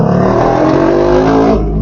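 A Yamaha RX135 motorcycle with an open silencer revs close by, a loud, raw, buzzing exhaust note held for a couple of seconds with no talk.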